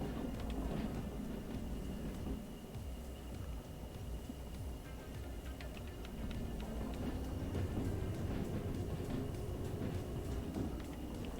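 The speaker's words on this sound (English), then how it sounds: "we're going to service the train now" A train in the Derail Valley railway game rolls along as a continuous low rumble and clatter, faint and steady with small rattling ticks throughout.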